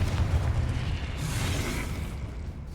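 Confringo fire spell explosion in the Hogwarts Legacy video game, a sustained loud burst with booming low rumble and crackling blast noise continuing steadily for a few seconds.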